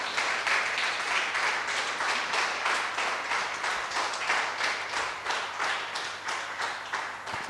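A church congregation gives a round of applause, fairly faint and roomy, with the clapping rolling in a loose, pulsing rhythm and gradually thinning out.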